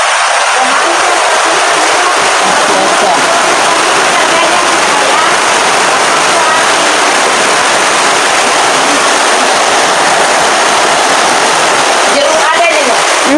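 Rain keeps up a dense, steady roar while faint voices murmur beneath it throughout.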